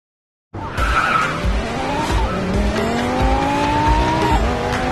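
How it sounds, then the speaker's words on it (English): A car drifting in the Racing Master video game, loud sustained tire squeal with sliding pitch over steady engine noise, starting abruptly after a brief silence and continuing to the end. "Drift to narrow the gap with the car in front."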